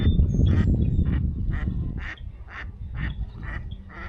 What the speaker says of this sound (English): That is an angry duck.